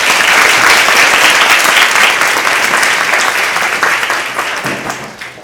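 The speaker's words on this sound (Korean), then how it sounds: "여러분들 감사의 박수 부탁드리겠습니다." Audience at an international academic conference on history and constitutional law at Korea University applauds in thanks, a dense, sustained wash of clapping that stays loud throughout and tapers slightly toward the end.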